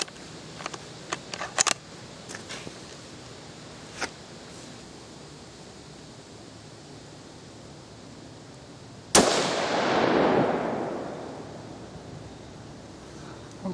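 A single loud rifle shot from a Ruger American rifle cracks out after several seconds of quiet outdoor ambience with scattered clicks, followed by a long rolling echo that fades away.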